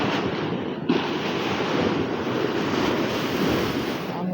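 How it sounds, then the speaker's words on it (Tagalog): Large ocean waves roar and wash in a continuous loud surge along the Dipolog City boulevard, with wind buffeting the microphone and no voices. "Ang lalaki ng alon, ayun"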